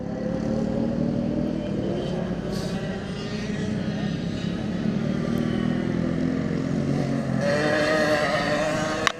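Race car engine on track, a loud sustained roar with rising and falling revs and harmonic pitch sweeps, continuous throughout, with a sharp click at the end.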